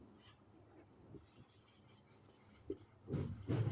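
Marker or chalk strokes scratch across a classroom board in short, soft bursts, growing louder and scratchier toward the end of the brief, otherwise quiet passage.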